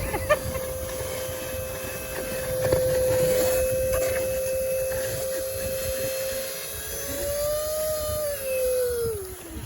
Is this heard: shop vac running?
yes